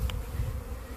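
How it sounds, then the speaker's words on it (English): Cluster of killer bees humming in a low, steady drone, close and unbroken for a brief moment. "We got a lovely cluster of bees here."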